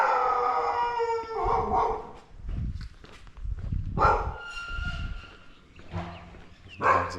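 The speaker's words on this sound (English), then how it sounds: "These dogs will get you." Several village dogs in Thailand bark and howl in overlapping bursts, some close and loud, others farther off, with a long drawn-out howl early on and footsteps faintly in between.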